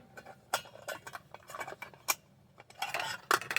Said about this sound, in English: This is my small mess kit, and from it, I'll need the pan